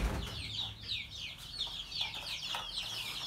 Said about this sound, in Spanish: Vamos a ver acá a nuestras ponedoras.